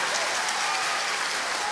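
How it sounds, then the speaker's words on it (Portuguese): Church congregation applauding during a priest's sermon: loud, dense, continuous clapping from a large crowd that fills the whole moment without a break. "aplauda essa pessoa aí"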